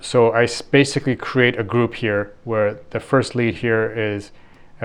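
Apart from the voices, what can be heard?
No everyday noises stand out.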